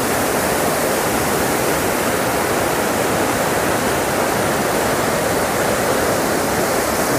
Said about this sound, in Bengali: আর এই সাইডে বোরহিল ফলস।